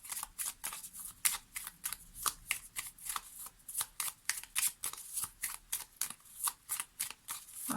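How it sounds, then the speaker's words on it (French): Lenormand cards being shuffled and drawn by hand, a steady run of quick crisp riffling snaps and soft slides repeating close by with no voices. "on va prendre quelques cartes du Lenormand"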